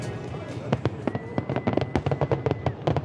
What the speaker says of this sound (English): that sound, fireworks exploding